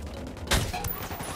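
A single sharp gunshot cracks out in a Ghost Recon Wildlands firefight, followed by a fainter second report amid background game noise.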